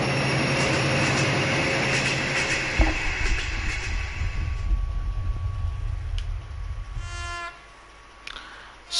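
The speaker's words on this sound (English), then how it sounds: "you'll see that the train is literally driving" A video game train in Dreams on PS4 rumbles and rattles along with steady rolling noise and clanking, then a sharp shift and a brief buzzing, ringing electronic tone near the end, no voices.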